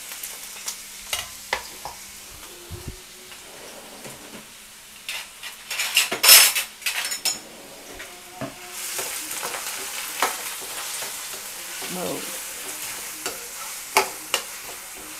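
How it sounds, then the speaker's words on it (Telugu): Onions and green chillies fry in a pan with a soft continuous sizzle, broken by intermittent scraping stirs and a few sharper clinks of a metal spoon against the pan, with no voices. "ఇది కలర్ మారేంత వరకు వేయించుకుందాం"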